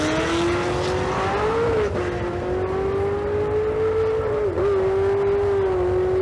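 Drag race run of a 2018 Camaro ZL1 against a Volkswagen at a street car event in Las Vegas, a loud sustained engine howl that climbs steadily in pitch with a couple of brief shift dips, heard without talk.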